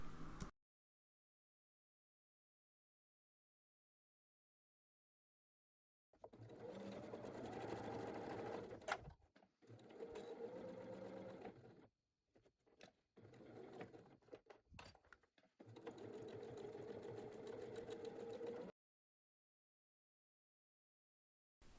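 A sewing machine stitches a fabric bag with three inner pockets, sewing between the straps and leaving a turning opening. After a silent start it runs in several close, steady bursts with short pauses, and no one speaks.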